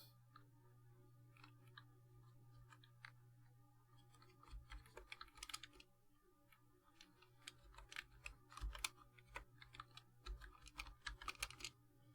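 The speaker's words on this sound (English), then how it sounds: "I'm still typing on the wrong one." Someone types steadily on a computer keyboard with irregular clusters of soft key clicks over a low background hum, getting busier and louder toward the end, with no talking.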